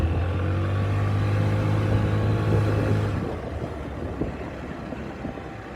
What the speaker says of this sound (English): Our idle is a little bit high, but that might just be because the choke is on